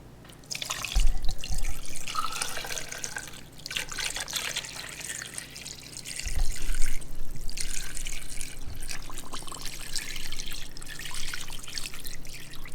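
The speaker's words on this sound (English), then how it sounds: "I'm going to fill the kettle with water, just enough to cover the necks and backs" Tap water runs into a kettle for broth-making in a kitchen, a steady splashing trickle with surges of fuller flow, fairly close and without speech.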